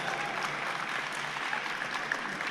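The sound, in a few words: audience applause for the drummers at a conference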